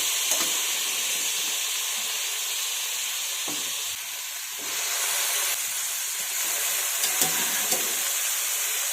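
Boiled, drained cauliflower and potato pieces drop into a spice tempering in hot oil, giving a loud, continuous close-up sizzle and hiss with a brief dip partway, and no talk.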